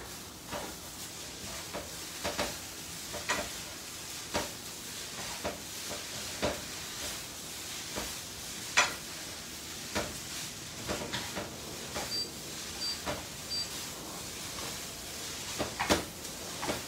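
Glass noodles (bún tàu) being stir-fried in a pan to toast and char them for a vegetarian dish, with repeated scraping, clattering utensil strikes about once a second over a faint steady sizzle.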